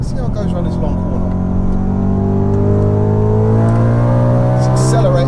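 Supercharged 629bhp Audi RS4 accelerating hard out of a long corner, its engine note rising steadily and loudly through the gears from inside the car, with someone talking over the sustained roar.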